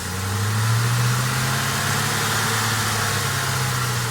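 A car engine runs close and loud with steady throttle held up, giving a continuous droning hum with a slight rise in pitch early on; no one talks.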